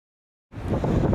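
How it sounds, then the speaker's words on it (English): Strong wind gusts roar across an exposed Antarctic island shoreline where an expedition has landed. Silence gives way halfway through to loud, steady, buffeting wind rumble that hammers close against the microphone, with no voices. "It's super windy right now."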